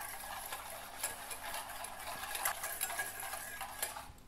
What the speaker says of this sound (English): I'm just gonna stir this through.